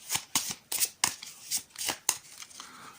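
Close, crisp riffling of a deck of cards being shuffled for a train board game, heard as about eight quick ruffling bursts in a row with quiet gaps and no speech.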